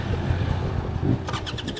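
A dirt bike with a clogged in-tank fuel filter climbs a hill on a trail at Durhamtown, its engine droning loudly and close, then stuttering into a rapid, uneven bogging pulse near the end.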